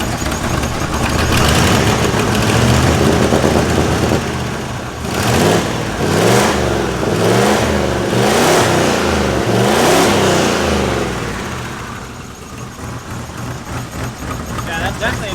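A turbocharged Ford Ranger with a swapped 5.0 engine and an exhaust leak revs loudly and repeatedly, several rhythmic throttle blips rising and falling over a rough idle, with people talking nearby throughout.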